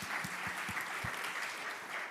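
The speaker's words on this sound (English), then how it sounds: "a round of applause for the management group" Conference audience applauding the management group, a steady wash of many hands clapping at a moderate distance, with a few low thumps early on.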